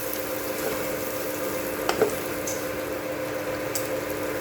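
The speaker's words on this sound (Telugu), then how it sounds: "ఇవి వేసి మీడియం ఫ్లేమ్లో ఉంచి మంచిగా కలుపుకోండి." Chicken curry with spices frying and being stirred on a medium flame: a steady, close sizzle runs throughout, with a few soft scraping and clinking touches from the stirring and no talking.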